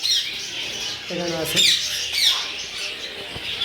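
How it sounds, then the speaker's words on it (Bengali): An African grey parrot lets out loud squawks at a busy bird market, with bursts of harsh calling and short shrieks over a steady background of other birds chirping. "এখানে আছে আফ্রিকান গ্রে প্যারট, খুব সুন্দর,"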